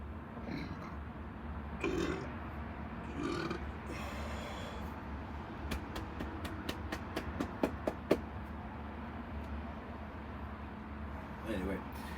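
Short, throaty burps break out during a breathing exercise, a few separate bursts over a quiet room hum, followed by a run of light clicks.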